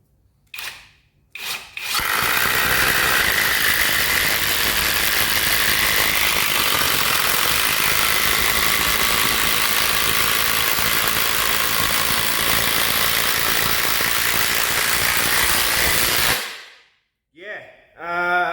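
An Ozito 18V brushless impact driver sinks a 200mm screw into wood with a loud, sustained, steady whirring hammer that runs for about fifteen seconds before cutting out, with brief quiet moments and short handling noises at either end.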